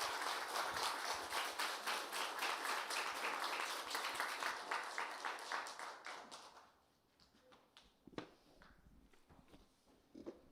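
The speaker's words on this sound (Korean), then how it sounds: "우리 힘차게 박수하면서 앞으로 보시도록 하겠습니다" A church congregation at Sunday worship applauds a visiting professor with loud, rhythmic clapping that fades after about six seconds into scattered taps and footsteps.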